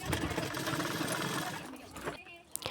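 A sewing machine running steadily while stitching the cups of a size 40 katori blouse, a fast mechanical whir with a voice talking over it before it slows and stops.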